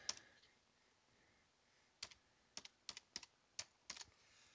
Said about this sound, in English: Type a new password.